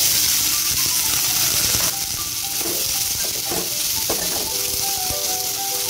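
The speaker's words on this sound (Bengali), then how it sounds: "এবারে আমি পেঁয়াজ কুচিটা দিয়ে দিচ্ছি।" Chopped onions go into hot oil with sugar in a pan for a rohu fish head curry, giving a loud, continuous sizzle broken by a few scraping stirs of the spoon.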